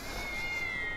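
A cat in GTA 5 gives a brief meow, a short, faint cry heard alone over a soft background of game sound.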